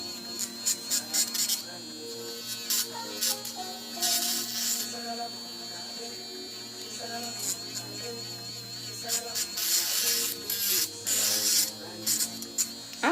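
A high-pitched nail drill whirs in short bursts while removing nails, stopping and starting repeatedly, with a faint voice murmuring underneath.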